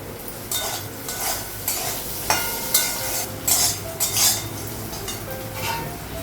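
Banana slices sizzle in a frying pan on a gas stove, with a steady fry running throughout and intermittent sharp clinks and scrapes of a utensil stirring against the metal.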